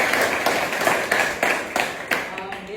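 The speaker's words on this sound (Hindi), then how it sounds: "तालियां आज के सेशन के लिए" Clapping at the start of a classroom session on operating systems; several distinct, fairly loud claps in an uneven rhythm, close by, with a faint voice underneath.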